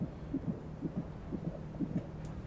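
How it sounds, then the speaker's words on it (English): A baby's heartbeat in the horror video game Amnesia Rebirth thumps in soft, low, muffled double beats at a steady pace over a faint hum. "I can suddenly hear the baby's heartbeat."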